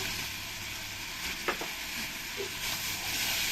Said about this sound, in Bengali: এক চামচ কাশ্মীরের লঙ্কার গুঁড়ো দিয়ে ভালো করে একসঙ্গে কষিয়ে নেব